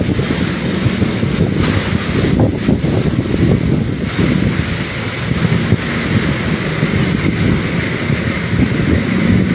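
Strong gusty typhoon wind at landfall roaring and buffeting the microphone, a continuous rumbling rush with occasional sharper gusts, no voices.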